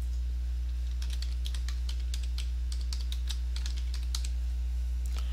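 Keys tapped on a computer keyboard while typing in Microsoft Word, a quick, uneven run of close clicks over a constant low electrical hum, with no one speaking.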